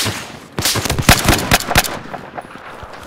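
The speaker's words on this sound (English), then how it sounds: "Ah, she's using shotguns" Shotgun blasts in the first-person shooter Battlefield 4 on the Silk Road map, a quick series of loud, sharp booming shots in close succession over ongoing battle noise.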